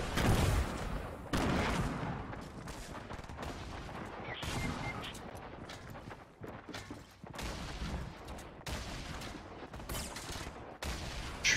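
Scattered gunshots and booms in a Fortnite match, sharp cracks and bursts at irregular intervals, fairly loud with quieter gaps between volleys, no talking heard.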